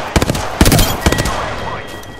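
Gunfire in the battle royale game Apex Legends, played on PS4 during Season 3 Meltdown: three sharp shots or short bursts crack out close and loud, then a quieter rumbling tail with faint in-game voice audio underneath.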